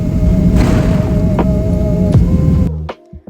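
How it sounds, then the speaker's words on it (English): Airliner touching down in cold weather, a loud continuous low rumble and engine hum with a few heavy thumps near the start, then the roar cuts away abruptly, leaving brief quieter knocks at the end. "please listen to the sound of this landing, because it's genuinely so terrifying"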